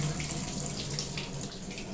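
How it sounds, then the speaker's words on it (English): A standard 1990s-2000s tub shower in a Days Inn hotel room in Ellis, Kansas runs at full flow, a steady close hiss of spraying water with no pauses and no voices. "Pull up to turn the shower on,"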